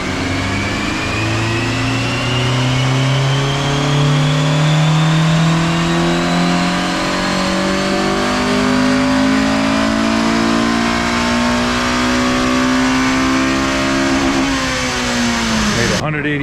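A 2006–2011 Honda Civic Si engine revs on a dynamometer during a tuning pull, one loud, continuous climb in pitch from low to high RPM over about sixteen seconds before cutting off abruptly.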